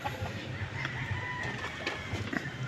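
Chickens and a rooster in a poultry house where eggs are collected from a breeding pen, with steady overlapping clucking and a few crowing calls over constant low barn noise.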